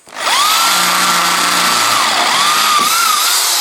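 A Makita 18V cordless drill bores with a 10 mm bit, a loud close motor whine that spins up quickly and holds steady, its pitch sagging and rising as the bit bites.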